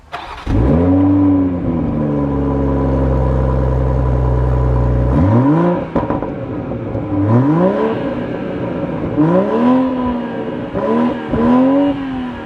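A BMW M340i sedan revs hard through the exhaust, a long rising roar followed by several shorter, sharp revs, loud and close.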